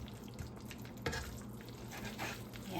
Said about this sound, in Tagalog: haluin natin saglit kasi nabubuo na yung sugar doon